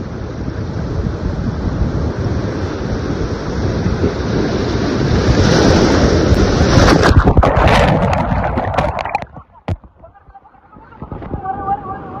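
Loud, steady rush of surf and splashing water with wind buffeting the microphone, easing into quieter lapping near the end.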